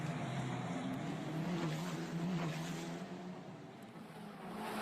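Formula Regional race cars streaming through a section of the Monte Carlo street circuit in Monaco, a steady loud engine roar from start to finish with the pitch rising and falling as the cars pass, heard from some distance.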